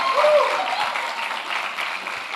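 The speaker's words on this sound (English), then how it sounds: "A huge round of applause, please." Steady audience applause at a fintech competition semi-final event, a dense continuous clapping with some crowd voices mixed in, holding fairly loud throughout.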